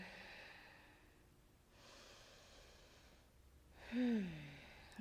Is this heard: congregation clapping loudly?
no